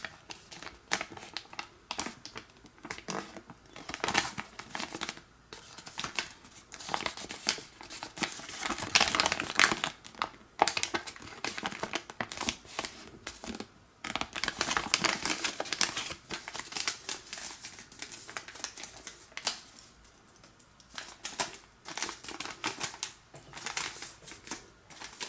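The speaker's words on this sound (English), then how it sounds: "You're gonna mount and fold this crease" Origami paper for a cross bookmark is folded and creased at close range, giving a continuous dense crinkling and rustling with scraping swells throughout, softening briefly near the end.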